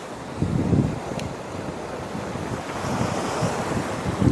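Waves rolling and washing in a wild, open bay at St Thomas West End, a steady surging roar with strong wind buffeting the microphone and no voices.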